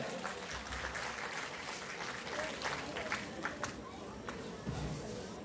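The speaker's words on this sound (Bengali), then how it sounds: "একটু জোরে হাততালি হয়ে যাক।" A hall audience at a dance academy's stage show at Rabindra Sadan, Baharampur, claps in a dense, continuous patter, steady and moderately loud throughout, with some crowd noise mixed in.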